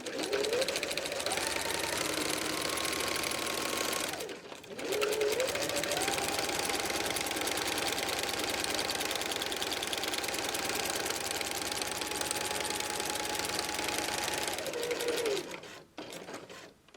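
Sewing machine stitching through all layers of polka-dot fabric for a foundation paper-pieced tulip potholder, a close, steady mechanical whir running for long stretches, with a brief pause near the start and a slowdown at the end.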